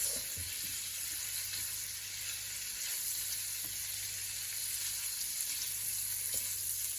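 Lobster pieces sizzling and being tossed in pan juices, a continuous crackling fry with a few light scrapes of stirring, steady and close, no voices.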